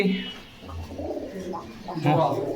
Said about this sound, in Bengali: পোস্টার টাইপের কবুতর